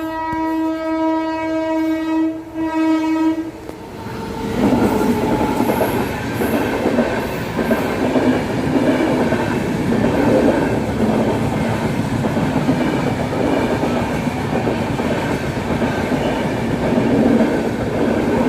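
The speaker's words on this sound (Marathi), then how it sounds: "आता रेल्वे येणार आहे" A train pulls into a railway station: a loud horn blast opens, then a steady heavy rumble of wheels and carriages rolls past close by with faint squeals throughout.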